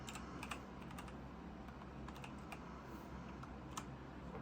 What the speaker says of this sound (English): We can also search, so I will type in autopilot.